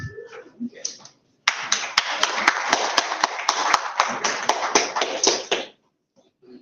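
A crowd gives a round of applause for Commissioner Joseph Ngaba at an opening session: dense, sharp clapping that starts abruptly after a short pause and holds steady for about four seconds before stopping.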